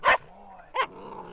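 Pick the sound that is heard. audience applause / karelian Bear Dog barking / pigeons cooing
karelian Bear Dog barking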